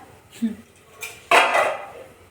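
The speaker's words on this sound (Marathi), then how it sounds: "तर असं मीठ टाकूया" Salt tipped into a pot of kadhi made with sour village buttermilk, giving a soft grainy shower and clink of pot and spoon, with a few light kitchen knocks before it, close and fairly loud.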